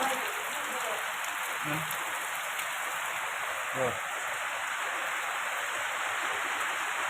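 Steady wash of rainwater flowing through a flooded yard and rain spattering on a hard surface, continuous and fairly close, with faint voices in the background.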